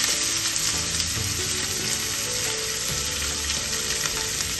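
Finely chopped onion sautés in a pan with a continuous, dense crackling sizzle, loud and close throughout with no voices.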